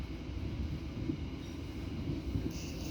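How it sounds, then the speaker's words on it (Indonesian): A local commuter train rolling along the tracks in Indonesia, heard from inside the carriage as a steady low rumble with faint rhythmic wheel clatter, continuous and unbroken with no talking. "Selamat datang di kereta api komuter lain Supas dengan nomor perjalanan 452."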